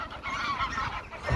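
Duck or goose-like fowl honking on open water near a small boat, a steady run of nasal calls that stays fairly loud for its short length.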